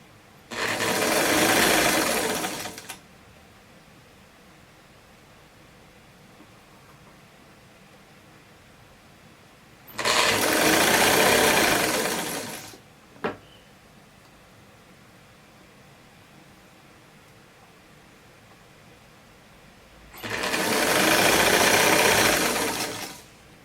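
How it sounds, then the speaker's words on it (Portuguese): Sewing machine stitching the top seam of a flared godet dress with crossed straps, running in three steady bursts of about three seconds each, separated by quiet pauses with a brief click between. "É só costurar."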